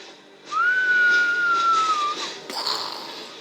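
A gladiator enemy taken down in the video game DC Universe Online, heard as a steady whistling tone that glides slightly downward for about two seconds, followed by a sharp, bright burst of impact noise.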